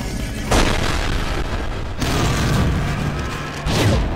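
Heavy booming gunshots from an animated battle in a few big bursts, loud and close, with a continuous rumbling background between them.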